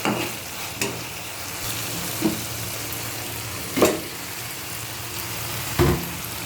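Fish pieces are turned through cooked spice masala in a pan, a steady crackling sizzle punctuated by a handful of spaced spoon scrapes and knocks against the pan, close and without speech.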